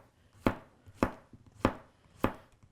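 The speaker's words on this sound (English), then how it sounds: "So you can do a push cut." Four evenly spaced, crisp knife strikes on a cutting board, each a sharp thud with a quick decay, made by push cuts with a Japanese kitchen knife such as a gyuto or santoku.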